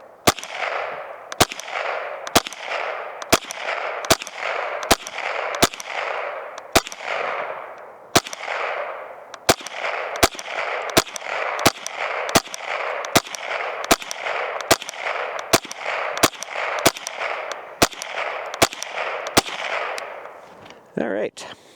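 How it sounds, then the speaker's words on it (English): A Mossberg 702 Plinkster .22 rifle fires shot after shot at a steel target about 20 to 25 yards away. About two dozen sharp cracks come at an irregular, fairly quick pace, each trailed by a brief ringing echo. "we're gonna shoot at the other steel target here at about 20,"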